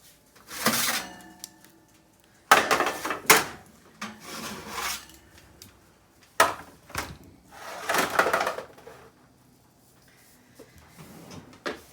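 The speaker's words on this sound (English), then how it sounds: "I'm going to take them out of the oven, and you just set them aside" Roasted vegetables for a vegan potato lasagna come out of an oven: several loud rubbing, sliding clatters of a tray and oven rack in bursts, with quiet pauses between.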